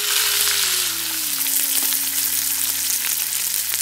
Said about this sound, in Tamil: இப்ப சின்ன வெங்காயத்தை சேர்த்துக்கலாம்.